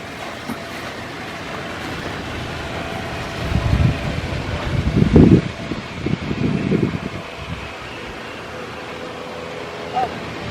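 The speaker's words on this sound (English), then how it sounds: "and the fan comes on." A greenhouse fan in a high tunnel runs with a steady whooshing drone throughout, a few louder rumbling bursts swelling in the middle.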